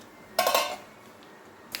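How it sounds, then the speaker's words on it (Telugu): Urad dal, mustard seeds, cumin and dried red chillies go into a pan for tempering, giving one short, fairly loud clattering burst that fades within a moment, followed by quiet and a faint click at the end. "పోపు వేసేస్తున్నాను."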